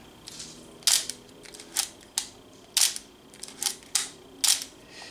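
An Olympus film camera's shutter fires about nine times in a row, each release a crisp, close mechanical click spaced roughly half a second apart over quiet background.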